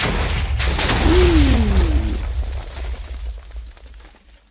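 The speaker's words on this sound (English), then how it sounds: "the minecart torpedo explodes at any subtle change in the terrain at all" TNT minecart torpedo exploding in Minecraft, a loud booming blast with a heavy low rumble that swells, then slowly fades out over several seconds, with no talk.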